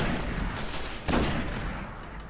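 Sniper rifle fires once in the Destiny video game, a sharp broadband crack about midway amid a dense wash of steady game noise and ambience.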